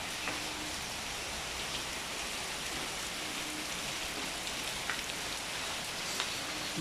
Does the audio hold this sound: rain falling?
yes